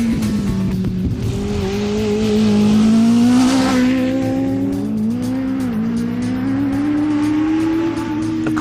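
A Mini fitted with a Yamaha R1 motorcycle engine and six-speed sequential gearbox revs hard and close, its high-pitched engine note rising and dropping steadily through the gears with no talk.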